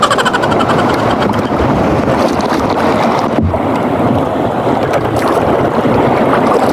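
A rough sea with big waves crashes and washes continuously while strong wind buffets the microphone, loud and close throughout with no talking.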